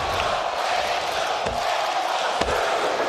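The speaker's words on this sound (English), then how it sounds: "This crowd in Atlanta coming unglued for this match." Wrestling crowd at an AEW Dynamite match in Atlanta roaring steadily, a dense wash of cheering with a few sharp thuds and shouts cutting through.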